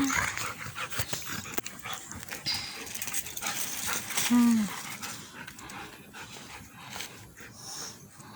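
Dogs pant, scuffle and let out a brief whimper up close while a person talks over the playful commotion.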